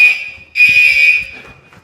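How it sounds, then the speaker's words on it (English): A loud, piercing fire alarm tone blares in two bursts with a brief gap between, ringing harshly and close, during Category 4 Hurricane Idalia. "this alarm keeps going off"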